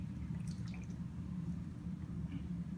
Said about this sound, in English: So pick it up and pour it out.